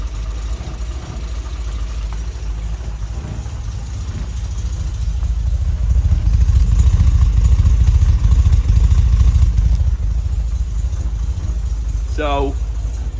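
A 1964 Lancia Flaminia 2.8 3C convertible engine idles steadily after a cold start, a loud, even low rumble that swells slightly partway through, with a brief squeak near the end.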